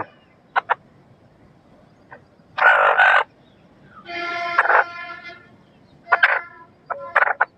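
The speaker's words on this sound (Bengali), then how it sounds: "মুরগি" Desi hens give short clucks and a few longer, louder squawking calls in separate bursts against a quiet background, with no talking.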